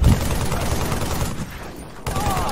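Sniper gunfire in the Halo Master Chief Collection video game, a dense run of loud game shots and impacts that never lets up across the whole moment, with a sharper burst at the very start and another near the end.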